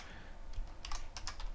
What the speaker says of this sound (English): Well, this seems like a lot of typing, isn't it?